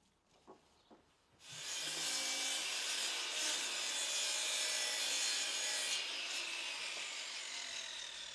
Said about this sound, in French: De temps à autre, il faudra scier les planches sur mesure.